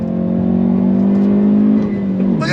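A 2022 Hyundai Veloster N hot hatch engine holds a loud, steady, close drone under load, then the pitch dips sharply as the driver shifts gears, with no talking over it.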